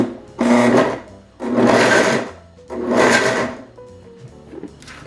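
A blender pulses raw cauliflower into rice in three loud, close bursts of about a second each, with brief quiet gaps between them and a faint rattle afterward.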